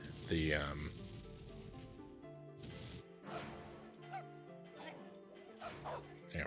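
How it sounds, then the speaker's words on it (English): Dog howl from the N64 video game Jet Force Gemini, a loud yelping bark up front followed by game music and sound effects, with someone talking over it. "I haven't found anywhere in the game that the howl is actually useful"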